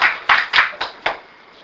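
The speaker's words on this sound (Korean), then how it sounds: "우리 최진호 교수 강연을 박수로" Several sharp claps ring out at a lecture in a short, uneven burst, about five distinct hits, loud and close, then fade into quiet.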